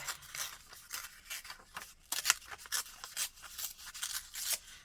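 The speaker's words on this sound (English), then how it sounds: "I'm going to rip. I'm going to rip." Paper being ripped by hand for handmade Valentine's Day postcards, a close run of short, crisp tearing bursts in quick irregular succession with no talking.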